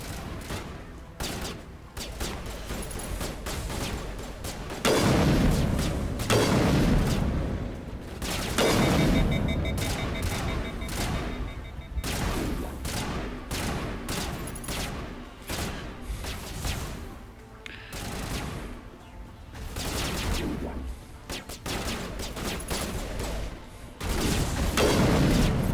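Repeated sniper rifle gunfire in the Mass Effect video game, a long sequence of sharp shots and bursts at irregular intervals, some louder and closer, mixed with booms and combat noise.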